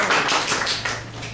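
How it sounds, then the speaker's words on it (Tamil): Applause at a Toastmasters-style club meeting, a short burst of hand clapping from a small group in a room, fairly close and steady for about a second and a half. "சிறப்பான மதிப்பீட்டு பகுதியை அளித்தமைக்கு மேலும் ஒரு கரகோஷத்தை வழங்குவோம்"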